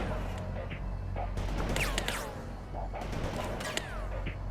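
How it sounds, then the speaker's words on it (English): In the video game World in Conflict, a TOW missile is launched at a Humvee, bursting through a busy battlefield din of rattling fire and crashes, with two louder surges, close and fairly strong throughout. "left-click on the Humvee to launch a tow missile at it"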